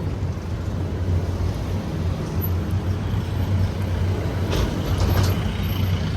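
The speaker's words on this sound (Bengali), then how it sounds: "এই রাস্তাটা তো ভেঙে ছিল, ধস নেমেছে, তোমরা সবাই জানো। রাস্তাটা আবার নতুনভাবে তৈরি হয়েছে, এর ফলে একটা গাড়ি আসছে আর একটা গাড়ি যাচ্ছে" Cars and trucks edge past slowly in alternating one-way traffic on a rebuilt, landslide-damaged stretch of Sevoke Road, a steady low rumble of engines with a few brief hisses, heard nearby without speech.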